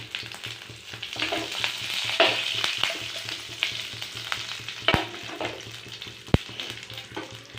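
Mustard seeds, a couple of fennel seeds and curry leaves fry in hot oil for a village-style fish egg dish, a steady close sizzle with scattered sharp pops and crackles, and no talking.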